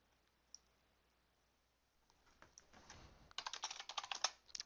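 Computer keyboard typing, starting with sparse clicks and building into a fast, dense burst of keystrokes near the microphone, with no talking.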